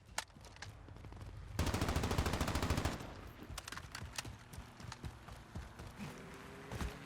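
Gunfire in the video game Call of Duty Modern Warfare: scattered shots, then a sustained automatic burst lasting over a second, followed by more sporadic shots and impacts.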